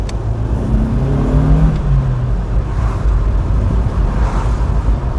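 A Vauxhall Astra F engine, run after four years parked, hums and revs steadily while driving, with a close, continuous low rumble and a brief rising whine early on.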